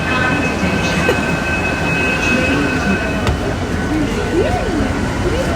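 A passenger train arrives and rolls through a station in a loud, steady rumble with faint high wheel whines. A voice speaks over the noise.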